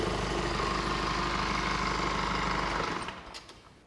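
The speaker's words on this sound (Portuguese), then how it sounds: "Agora nós vamos desligar o motor e vamos ver o que vai acontecer." A car engine idles with a steady low rumble, then is switched off and dies away within about half a second, leaving faint clicks and near silence.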